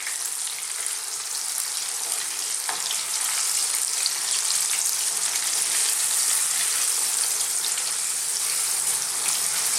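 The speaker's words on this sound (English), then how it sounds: "So we're going to cook this on this high heat, this oil, for about just 3 or 4 minutes." Chicken pieces deep-frying in hot oil over high heat, a steady, dense crackling sizzle that holds at an even level throughout with no voices.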